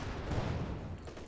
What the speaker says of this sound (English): More Cromwell shooting there